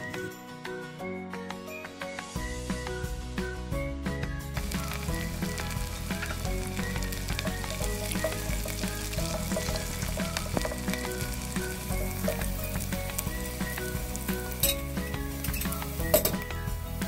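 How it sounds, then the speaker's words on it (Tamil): Onions, garlic and curry leaves frying in a pan for fish curry, a loud steady sizzle with stirring scrapes and occasional metallic clinks of a spoon against the pan. "வெங்காயம் கொஞ்சம் ப்ரௌன் ஆகிற வரைக்கும் நம்ம மிக்ஸ் பண்ணிக்கலாம்."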